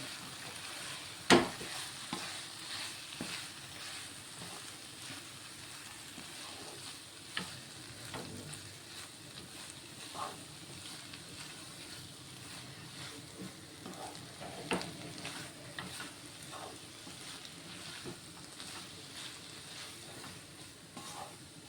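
Egg noodles being stirred in a pan, a soft continuous sizzle with occasional light scrapes and taps of the spatula, steady and moderately quiet.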